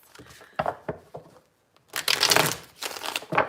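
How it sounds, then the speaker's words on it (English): A deck of tarot cards is shuffled close by in a quiet room, producing several short papery riffles followed by a longer, denser run of crisp card flutter. "Sorry if the shuffling's loud today, guys."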